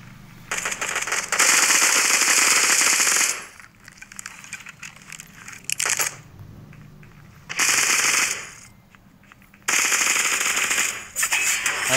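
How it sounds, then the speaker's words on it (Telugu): Machine gun fire in the shooter game Bullet Echo rattles out in long, loud sustained bursts, broken by short pauses and quieter stretches, with no talk. "మిషన్ గన్ పవర్ అలాంటిది"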